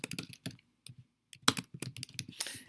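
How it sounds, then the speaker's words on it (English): Bursts of quick keyboard typing, close and fairly quiet, with short pauses between runs of keystrokes. "Basically, you're just typing in."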